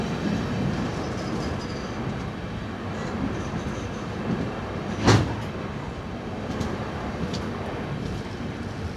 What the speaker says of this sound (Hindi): Chitradurga Hubli passenger come express.